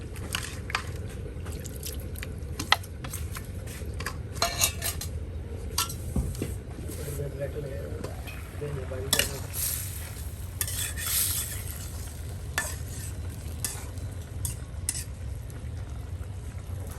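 Pangas fish curry with ash gourd being stirred and tossed in a pan, a low continuous sizzle under repeated scraping and clinking strokes of a spoon against the pan, close up with no talking.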